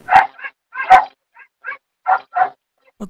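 A dog barks in short sharp bursts picked up by an online class participant's microphone, about eight quick yips and barks with small whimpers between them, fairly close and compressed.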